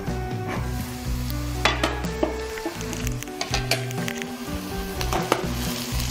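Sliced onions fry in oil in a covered pan for a tamarind fish curry, giving a steady close sizzle with scattered clinks of a utensil and lid against the pan.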